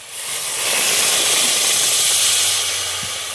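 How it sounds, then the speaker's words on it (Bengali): Steady loud hissing and bubbling as jaggery melts with a little water in a wok, with a faint low hum underneath. "গুড়টাকে এখন আমি কড়াইতে দিয়ে গলিয়ে নেব তো সামান্য অল্প জল দেব"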